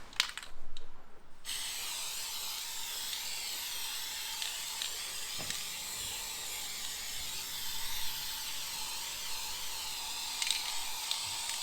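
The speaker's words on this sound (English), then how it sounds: "spray on the area, and then let it sit for 1 to 2 hours. So we'll spray it" A short burst of aerosol spraying of oil stain cleaner onto concrete near the start, then a steady faint hiss with a few small clicks and no talking.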